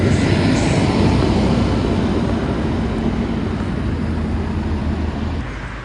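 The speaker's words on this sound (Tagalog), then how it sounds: "Yan yung bus na sinasakyan namin papunta sa city, number 66." Netherlands city bus number 66 rumbling steadily from inside at close range, a continuous low engine drone with road noise that stays even throughout and eases off slightly at the very end.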